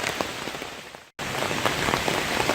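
Steady rain patters on surfaces around a wet campsite at Nerstrand State Park, Minnesota, a dense continuous hiss broken by a brief moment of silence partway through.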